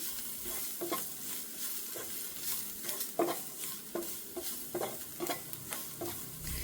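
A spiced filling mixture with garam masala, for stuffed bhoori, is stirred in a hot pan: soft continuous sizzle under repeated quick scraping strokes of a spoon, close and moderate, no talking.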